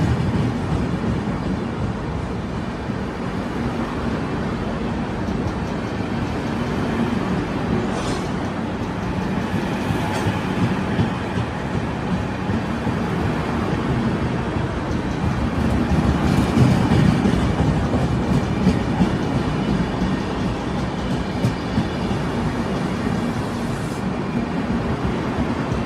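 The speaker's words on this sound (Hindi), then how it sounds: "ट्रेन भी अच्छी खासी लंबी है" Long Dibrugarh–New Delhi Rajdhani Express passenger train rolling past close by, a continuous loud rumble with rhythmic wheel clatter and faint squeals sustained for the whole stretch.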